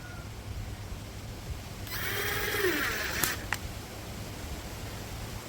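A cordless brushless impact driver, DCA ADPL208, runs at its low speed setting in a short whirring burst of about a second and a half, ending with a couple of sharp clicks, moderately loud over faint room noise.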